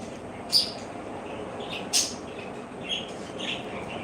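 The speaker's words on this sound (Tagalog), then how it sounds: "Kumusta daw sabi ng ibon, no? Naririnig mo, Sisi." A few short, faint bird chirps sound at intervals over a steady background hiss, with no voices.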